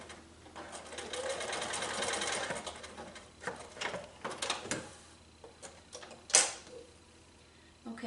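A sewing machine runs steadily while stitching binding onto a small quilt, then gives way to scattered clicks, taps and handling noises, with one sharp high squeak near the end.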